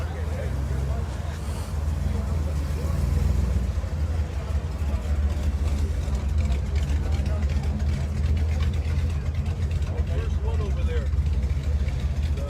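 A 1955 car rolls into a car show with its engine rumbling low and steady at idle, a deep continuous burble running under nearby chatter and crowd noise.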